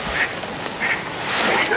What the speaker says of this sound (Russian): чайки, утки, как зоопарки.